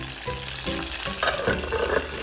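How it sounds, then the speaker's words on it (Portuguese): Kibe frying in a pan of hot oil gives a steady, moderately quiet sizzle, with some stirring or shifting noises mixed in and no talking. "Agora eu tô fritando aqui o kibe."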